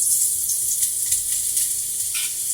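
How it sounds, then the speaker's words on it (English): Mushrooms sizzle in a hot pan with a steady hissing crackle, close and fairly loud, continuous throughout with no speech. "Yep, you hear that sizzle?"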